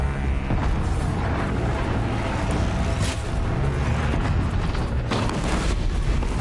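Booming explosions from disc launchers in the video game Horizon Zero Dawn, a dense, continuous barrage of loud blasts and bursts with sharp peaks, no voices.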